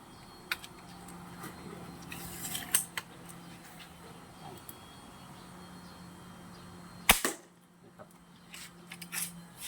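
Slingshot shots loosed one after another at a target, with a few sharp snaps and impacts spread across the stretch, the loudest crack near the end, over a steady low hum of background noise.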